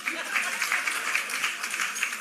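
Graduation audience at an adult continuing education commencement clapping steadily, a moderate, somewhat distant ripple of applause without pause.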